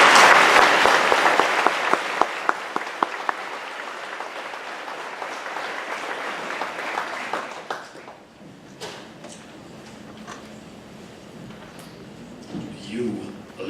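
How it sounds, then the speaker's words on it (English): Audience applause welcoming a keynote speaker at a graduate school convocation, loud sustained clapping with scattered sharp claps that fades out, followed by quiet room noise and a speaker starting to talk. "Let's welcome and celebrate Dr."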